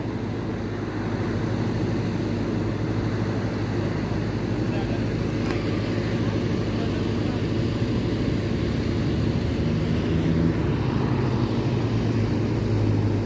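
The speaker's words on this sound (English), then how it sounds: "Air uh, Canada just landing now" An Air Canada airliner landing at Heathrow Airport gives a loud, steady engine roar that holds throughout over broadband outdoor rumble, with a slight swell near the end.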